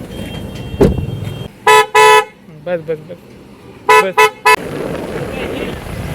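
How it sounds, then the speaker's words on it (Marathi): A newly fitted car horn sounds in a series of short, loud toots, two quick pairs and a final blast, close by between stretches of talking and idle background noise. "तू हॉर्न वाजव"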